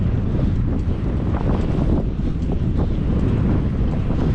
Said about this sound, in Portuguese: O vento aqui não tá brincadeira.